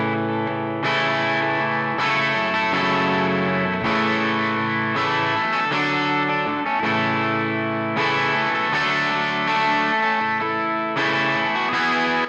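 Distorted electric guitar, played through a Super Lead amp emulation and a Jim Lill Nashville session cab impulse response, rings out in sustained chords and riffs, loud and steady with no talking.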